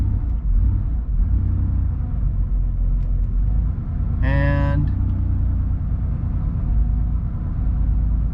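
A Porsche 3.2 Carrera flat-six idles steadily in first gear with the clutch partly out, its low rumble continuous and close, with a brief higher whine partway through and a single spoken word.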